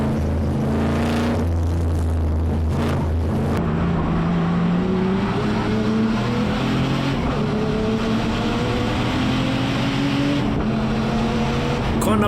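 Race cars roar past on track during a four-hour endurance race, including a turbocharged BMW E30, with engines rising and falling in pitch as they approach and pass, loud and continuous over twelve seconds.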